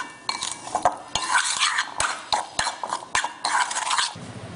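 A spoon mixes gongura chutney with a mustard seed and asafoetida tempering in a pan, giving a fast run of close metallic scrapes, taps and clinks against the pan.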